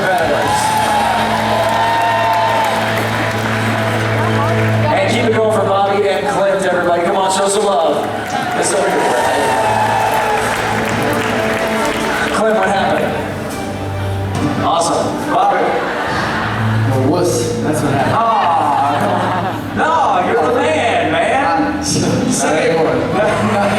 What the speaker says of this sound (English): Let's get a big round of applause for all of our competitors.